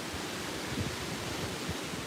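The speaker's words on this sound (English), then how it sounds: "Good gusts coming our way right now." Steady roaring hurricane wind rushing at the microphone, a dense broadband buffeting with low thumps of gusts, no voices.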